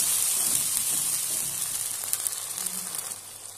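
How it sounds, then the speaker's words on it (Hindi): Spice masala frying in hot oil for matar nimona, a dense bright sizzle up close that eases slightly toward the end, with a few stirring clicks. "इस तरह मसाले को अच्छे प्रकार से हम भून लेंगे जब तक यह तेल नहीं छोड़ने लगेगा।"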